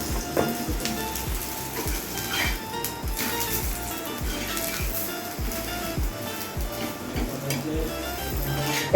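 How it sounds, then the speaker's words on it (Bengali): Food sizzles and spits steadily on a hot tawa griddle, a dense continuous frying hiss with frequent sharp crackles and pops throughout. "একটু লাল লাল করে ভাজবো"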